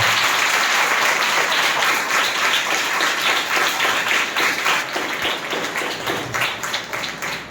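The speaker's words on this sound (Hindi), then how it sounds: "यदि आप खुश हैं तो जोर से ताली बजा के प्रभु को धन्यवाद दें" A church congregation claps loudly during a Sunday service, a dense, sustained burst of applause from many hands that stays strong and gradually thins toward the end.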